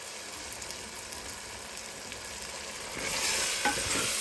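Onions and tomatoes frying on a medium flame for restaurant-style paneer masala curry, a soft steady sizzle with light stirring that swells louder and brighter toward the end, no voices.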